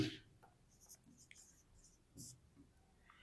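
Pen on paper scratches out a math set by hand in short, soft strokes with pauses between them, faint and close in a quiet room.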